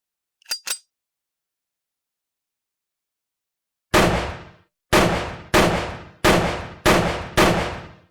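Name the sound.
gunshots fired at a target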